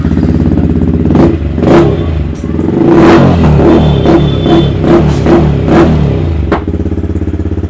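A Yamaha MT-15 motorcycle with an aftermarket full-system exhaust revs hard up close, with sharp repeated throttle blips over a throbbing idle and a final burst before it settles.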